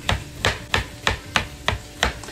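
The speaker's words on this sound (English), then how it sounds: "I like chopping it up fairly small" A knife chops garlic on a cutting board in a home kitchen, with seven crisp, evenly spaced strikes landing about every third of a second, close and clear with no talking.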